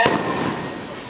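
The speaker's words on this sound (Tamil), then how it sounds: "இப்போ வான வெடிக்க சத்தம் கேட்குது" A single sharp firework burst at a temple festival stage event, a loud crack at the start that fades into a rumbling tail over about a second.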